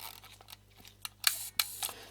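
Several quiet, sharp mechanical clicks from an Olympus Pen EED camera shutter firing, spaced irregularly over about two seconds, close up with no talk.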